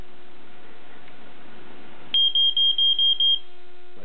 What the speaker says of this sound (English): Now this creates the 4-6 alarm pattern.